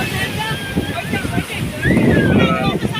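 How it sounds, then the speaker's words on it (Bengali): Rough sea surf rolls in at high tide on Digha beach as a steady, broad roar, swelling louder partway through. Wind buffets the microphone, and a voice can be heard faintly underneath. "জোয়ার চলছে, বিভৎস জল।"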